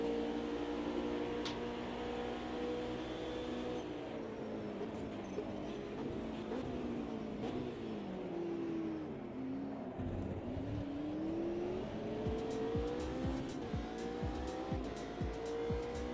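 An Audi race car in a racing video game accelerates hard, its engine note climbing steadily through the gears with tire squeal, loud and continuous, briefly dipping before rising again.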